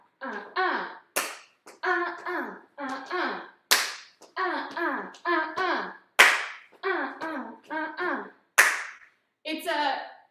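Single sharp hand claps in a swing dance lesson, repeating at regular intervals between stretches of close instructional talk.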